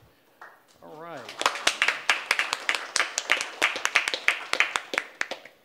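Audience at an Ennis Commission meeting clapping after a presentation, close and loud with dense irregular hand claps lasting several seconds, a voice speaking briefly at the start.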